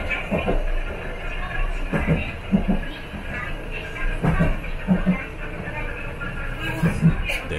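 A Chikuho Electric Railway train runs along the tracks, giving a steady rolling rumble with periodic rhythmic clacks from the wheels, heard from on board under a faint background hum.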